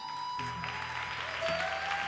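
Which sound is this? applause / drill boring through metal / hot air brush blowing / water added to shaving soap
applause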